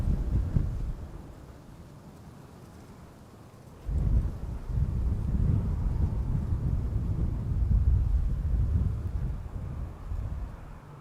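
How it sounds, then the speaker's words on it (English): Strong crosswind at Amsterdam Schiphol Airport buffeting the microphone, a loud, low roaring rumble in uneven gusts that eases for a few seconds and then surges back hard. "This is more or less where the wind is coming from."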